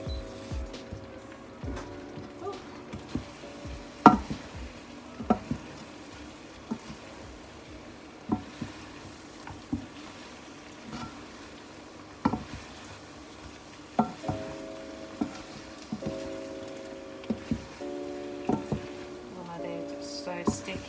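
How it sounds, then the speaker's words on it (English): Sticky sesame chicken being stirred in a frying pan, soft sizzling under repeated scraping and clacking of a utensil against the pan, with occasional light voices. "I'm literally just going to keep mixing this up until everything is saturated"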